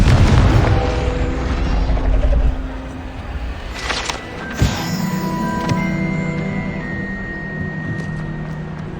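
A Confringo blasting curse explodes in a Harry Potter video game, a deep rumbling boom followed by a second sharper bang and lingering magical ringing tones.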